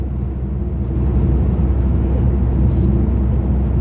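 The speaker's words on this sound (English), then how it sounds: "After 4 kilometers drive under the tunnel" A car drives through a long road tunnel of about four kilometres, giving a loud, steady engine and tyre rumble with an enclosed, reverberant roar that holds constant throughout, with no talking.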